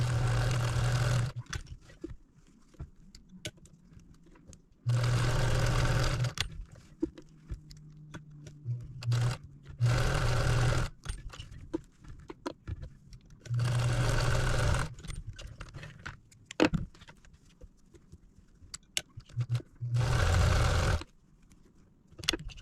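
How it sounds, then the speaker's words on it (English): A sewing machine runs in several bursts of a few seconds each, stitching quilt squares for a star quilt block, with its steady motor whir separated by quiet pauses and small handling clicks. "Let's go sew these."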